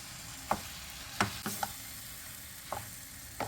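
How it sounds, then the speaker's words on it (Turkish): Roasted eggplants turned in a pan with flour, a soft steady sizzle broken by several light scraping and clinking knocks of a utensil against the pan, quiet and close. "Patlıcanları da tavada şöyle bir çeviriyorum."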